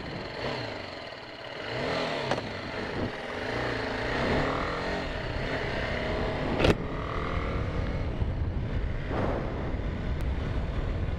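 A BMW G310R motorcycle heard while riding in mixed conditions: an engine drone rises and falls through gear changes under steady wind rush, close to the microphone and without talk.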